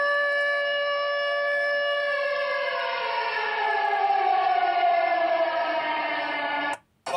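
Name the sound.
wailing civil defense siren, red alert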